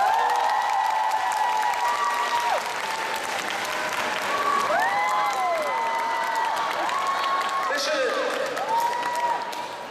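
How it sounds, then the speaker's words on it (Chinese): Audience at a singer's fan meeting in Sydney applauds steadily to welcome the singer onto the stage, a loud continuous wash of clapping with some cheering and a host speaking over it. "让我们用最最热烈的掌声，请出我们心中最喜欢的歌神"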